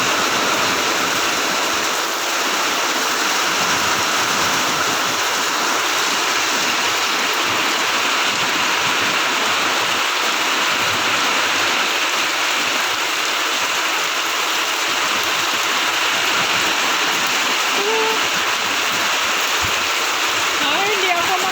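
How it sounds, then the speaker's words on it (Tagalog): Heavy rain pours down steadily amid strong gusting wind, a dense continuous roar that fills the whole stretch, loud and close with no letup; a voice speaks over it. "Nakakatakot yung lakas ng hangin at yung ulan."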